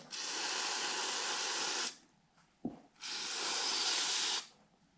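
Soap cleaner sprayed onto a Duramax L5P sensor in two long, steady hissing bursts, separated by a brief pause and a small clunk, loud and close with no talk.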